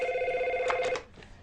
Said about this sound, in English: this phone is ringing off the hook